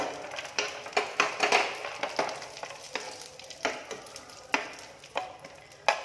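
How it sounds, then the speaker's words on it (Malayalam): Cashews fry in hot ghee, giving a soft, steady sizzle broken by irregular crackles and light scraping stirs, close and moderately quiet. "നെയ്യ് ഒന്ന് ചൂടായിട്ട് വരുമ്പോൾ കുറച്ച് കാഷ്യൂസ് ഇട്ട് കൊടുക്കാം. ഒന്ന് ജസ്റ്റ് ഒന്ന് ഫ്രൈ ആയിട്ട് വരണം."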